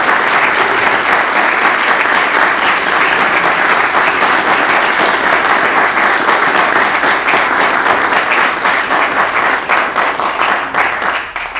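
An audience at the Ray Bradbury Creativity Award presentation applauds loudly and continuously, a dense sustained roar of clapping that fades slightly near the end.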